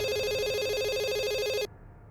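A telephone rings with a bright, warbling electronic trill that repeats rapidly for about a second and a half, then cuts off abruptly into quiet room tone.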